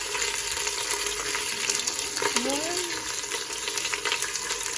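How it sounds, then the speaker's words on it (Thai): A pork leg fries in oil with a dense, crackling sizzle and spatter throughout, and a short rising squeak sounds faintly in the middle. "ทอดให้หนังมันตึงนิดนึง"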